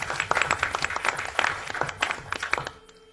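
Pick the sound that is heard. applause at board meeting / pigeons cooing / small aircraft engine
applause at board meeting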